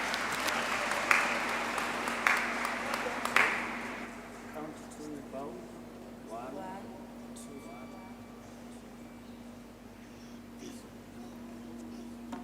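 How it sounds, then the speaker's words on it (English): A graduation ceremony audience breaks into loud, dense applause for a choir called to the stage. The clapping swells for a few seconds, then tapers off into a steady hum with faint voices and scattered movement. "Let's welcome them on stage, ladies and gentlemen, with a round of applause."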